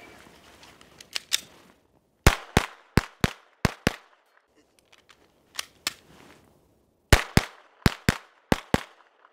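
A less-lethal pistol fires in quick strings of sharp, loud cracks, bursts of three to five shots separated by short pauses, close and dry with faint handling noise in between.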